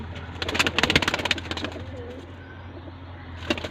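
A golden teddy pigeon coos softly nearby after a burst of rustling and wing flutter, with low murmured coos and a short scuffle near the end.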